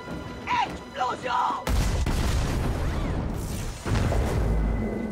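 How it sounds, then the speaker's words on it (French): In the animated series Arcane, a sudden loud blast erupts in the middle of a city after a moment of speech, followed by a long rumbling roar with debris-like crashing, and a second surge of noise near the end. "Explosion!"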